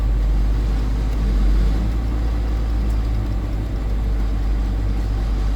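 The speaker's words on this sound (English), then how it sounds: "Still, that 10-cylinder sounds weird." A Volkswagen Touareg V10 diesel engine runs steadily, a deep low rumble and drone that stays constant and fairly loud throughout, with no talking over it.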